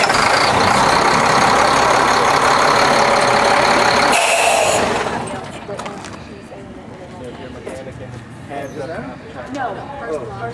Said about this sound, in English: Start your engine from here.